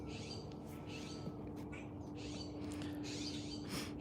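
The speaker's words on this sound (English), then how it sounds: "No, I love birds. I love hearing them." Birds calling from the trees behind a yard, with repeated chirps heard at a distance over a steady low hum and background noise.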